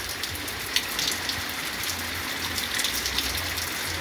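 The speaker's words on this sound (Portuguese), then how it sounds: "Muita chuva" Heavy rain pours down steadily in Joaquim Gomes, Alagoas, Brazil, a dense, even hiss of drops pattering on surfaces with occasional louder splashes, continuous and close throughout.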